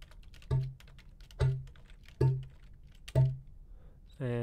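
Flute tongue ram samples played back one after another: four short, percussive low pops at an even pace, each with a quick breathy attack, then a brief tonal burst at the end, recorded close with no talking.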